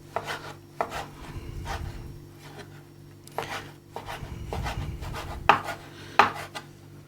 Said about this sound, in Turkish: Doğramaya devam ediyorum. Şöyle ufak ufak doğrayacağız.